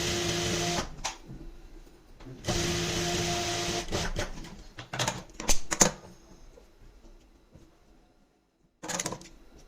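Domestic sewing machine stitching folded fabric piping for a kurti, with steady whirring runs that start and stop alongside short clicks and handling taps, close by and with no talking, ending in a brief quiet before one last run.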